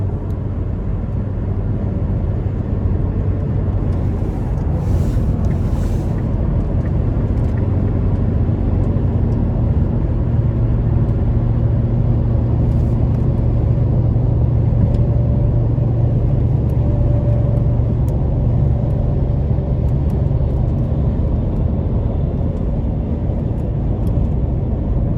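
A 2018 Karma Revero on 22-inch wheels rolls down the road, its steady low rumble of road and tire noise holding constant and loud throughout, heard from inside the cabin with no talking.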